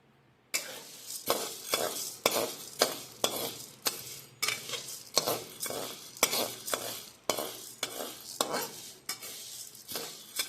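Dal roasting dry in a pan is stirred with a spoon in about a dozen regular scraping strokes, each a close, crisp swish over a faint background.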